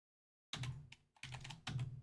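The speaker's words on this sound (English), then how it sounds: "I'll finish typing this." Computer keyboard typing in three quick bursts of key clicks after half a second of silence, close and fairly loud, with brief pauses between bursts.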